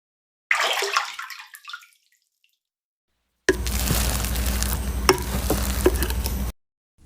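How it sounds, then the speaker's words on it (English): Water is poured gradually into a flour batter during mixing. A short splashing burst fades out, then after a pause comes a longer, steady watery rush with stirring clatter. "Add water gradually."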